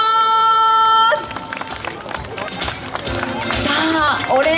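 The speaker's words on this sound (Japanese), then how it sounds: "皆さん拍手をお願いします" Audience applause at the Fukuoka Tower orange ribbon lighting ceremony, a crowd clapping steadily at moderate distance after a long electronic tone stops, with an announcer talking over it.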